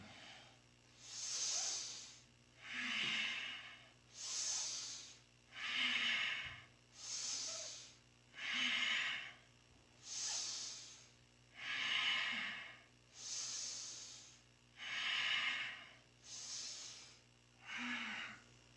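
Slow, steady breathing during a Kundalini yoga leg-lift exercise, with about ten long, hissing inhale-exhale cycles in an even rhythm, close and fairly quiet, no talking.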